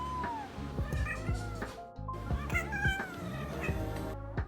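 Rescued street kitten trilling and meowing in a varied, chirping string of calls, close and clear, with rolling trills and rising meows running almost continuously over soft background sounds.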